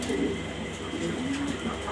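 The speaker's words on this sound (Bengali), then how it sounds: "আমার এখানে কবুতর আছে" Exhibition pigeons coo close by in a loft, several soft rolling calls overlapping in quick succession against a faint background hum.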